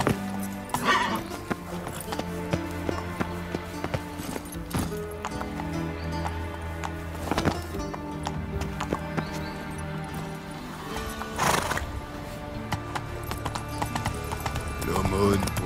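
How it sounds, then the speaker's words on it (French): A horse gallops in The Witcher 3 video game, hooves clip-clopping in a steady patter under game music and effects, while a voice speaks at times. "Au galop, Ablette!"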